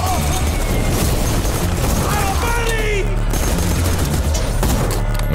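Rapid gunfire rattles without a break in the Borderlands game, loud and dense, with whooshing projectile sounds mixed in and someone speaking over it.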